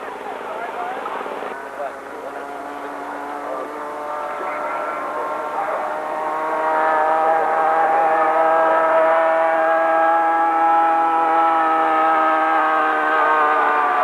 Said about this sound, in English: He's flying a P-47 Razorback.